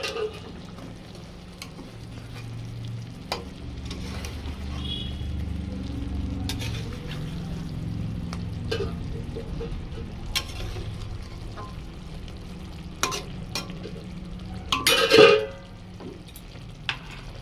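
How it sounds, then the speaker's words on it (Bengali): Rui fish frying in a pan on high gas heat and being gently turned, a soft low sizzle with scattered light scrapes and clicks and a brief louder clatter near the end. "ঢাকনাটা খুলে একটু মাছটাকে হালকা করে নাড়িয়ে দেব।"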